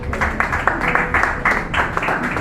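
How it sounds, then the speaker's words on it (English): A crowd applauds a debate speaker, the clapping thick, even and near, with small surges of louder claps rolling through the short burst. "another round of applause for her"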